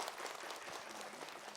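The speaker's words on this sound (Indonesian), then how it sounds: "Tepuk tangan dulu dong Bu." Studio audience applause during an Islamic television talk show, a dense, even patter of many hands clapping, soft and steady throughout.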